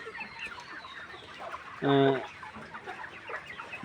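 A hen recovering from an eye infection with watery, pus-filled eyes gives a single loud, harmonic cluck near the mic, standing out over a soft background of other fowl.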